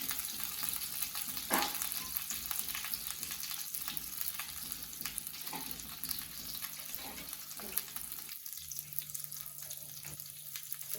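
Coriander and curry leaves fry in a pan with a soft, continuous sizzle broken by small crackles and occasional stirring scrapes, fairly quiet and close.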